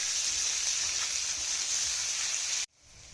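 Chopped onions sizzle in hot oil with whole cumin, asafoetida and whole garam masala, a steady close hiss with no talk that cuts off abruptly near the end.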